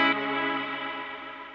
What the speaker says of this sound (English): Can you hear that kind of like wobbly tone? It's like a chorusy, slapbacky kind of thing